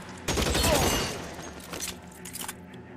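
Machine gun fire in a first-person shooter: a dense, loud rattling burst of rapid shots lasting under a second, followed by scattered fainter pops and mechanical clatter fading out.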